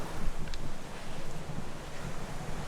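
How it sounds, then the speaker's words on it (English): Ocean surf breaks on a beach in east Bali as a continuous rushing roar, with gusty wind buffeting the microphone throughout. "And there's the ocean."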